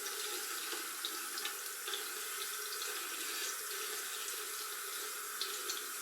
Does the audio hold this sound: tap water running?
yes